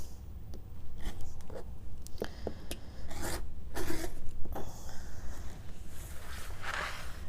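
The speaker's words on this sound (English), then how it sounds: "I'm going to do one more trimming" A quilt block being trimmed along a Bloc-Loc ruler for a diamond-in-a-triangle pattern: soft, close scraping and rasping strokes at an uneven rhythm, fairly quiet, with no talk.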